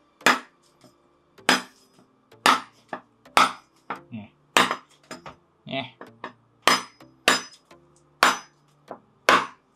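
The thick, hard spine of a knife knocks on a coconut shell for a creamy-flesh coconut in a steady series of about a dozen sharp, loud taps, each followed by a brief ring, with a voice speaking faintly between blows.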